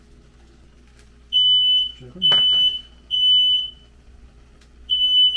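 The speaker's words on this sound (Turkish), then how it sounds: "Bunu açtığımda az önce yangın alarmı falan çaldı bu arada." Home smoke alarm in a kitchen sounding during cooking, loud repeated high-pitched beeps in a regular pattern close by, with a brief spoken question between beeps.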